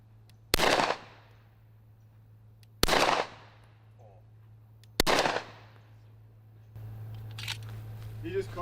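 Three loud, sharp gunshots fired at a mannequin target at a shooting range, evenly spaced about two seconds apart with short decaying echoes, followed by a rising background rustle.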